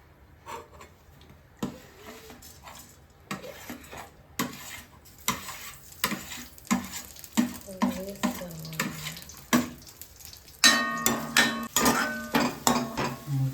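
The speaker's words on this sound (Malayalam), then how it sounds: "ചിക്കൻ വറുത്ത് വെച്ചേക്കാണ്" Chicken fries in a pan while a utensil scrapes and stirs it, giving irregular clinks and clatters that grow louder and busier toward the end, over a steady background sizzle, with no talking.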